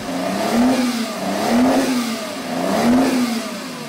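Lamborghini V12 engine revving in three rising and falling pulls, each surging then easing off, loud and close with no voices over it.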